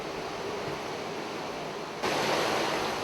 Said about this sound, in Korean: 시원한 물줄기를 쏟아내는 폭포가 자리한 곳은 남양주의 하수종말 처리장.